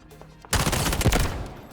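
Burst of rapid gunfire in the shooter Delta Force: Hawk Ops, starting abruptly after a quiet moment and rattling loud and dense for over a second before trailing off.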